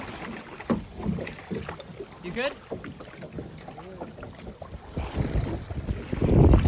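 Gusty wind buffeting a small boat out on the water, rushing and rumbling against the microphone and building louder near the end, with brief speech and splashy knocks mixed in.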